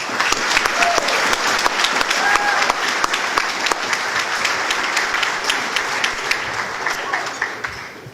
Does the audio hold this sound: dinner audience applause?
yes